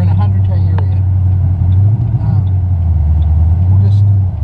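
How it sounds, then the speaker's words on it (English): A 2009 Ford Mustang Black Widow on an open road hums with a steady low engine drone heard from inside the cabin, with a brief dip as the car gets rolling. "We'll just get this car rolling and we'll see what it's like 0 to 100."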